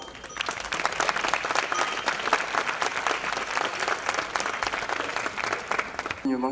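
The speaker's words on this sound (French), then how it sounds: "on peut s'applaudir également" Steady, dense audience applause fills a village festival crowd at the Fête du Ruban Cour d'Amour in Mouriès, sustained and even from start to finish with no break.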